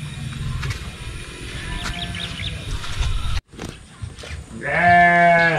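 Sheep bleat at Santino's Farm in Lopez, Quezon, ending in one loud, close, wavering bleat after a stretch of quieter farm ambience and a brief cut.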